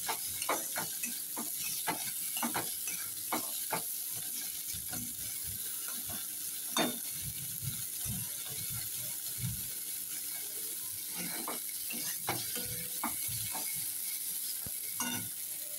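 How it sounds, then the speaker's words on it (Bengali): Shrimp, onion and chili fry lightly in a pan, a steady sizzle broken by frequent scraping stirs and spatula knocks in an irregular rhythm, close and without talk. "এবার চিংড়ি মাছ, পেঁয়াজ আর লঙ্কা এগুলোকে একটু ভালো করে, বেশি ভাজবো না, অল্পই ভাজবো"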